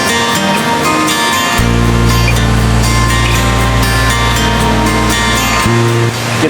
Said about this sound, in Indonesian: Jadi seperti inilah situasi dan kondisi di air terjun